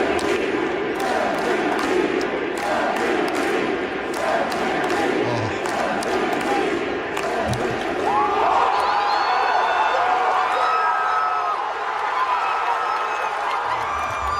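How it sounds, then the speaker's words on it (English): A packed ballpark crowd roars and cheers continuously, a dense wash of many voices swelling throughout, with rhythmic chanting of MVP rising in the latter half. "It is the entire ballpark chanting MVP"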